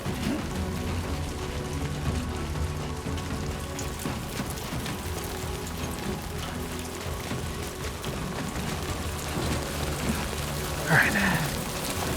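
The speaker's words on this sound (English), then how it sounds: "This rain's really pelting me." Heavy rain pelts down steadily in the video game Death Stranding 2, a dense continuous hiss that stays constant throughout with faint voices beneath it.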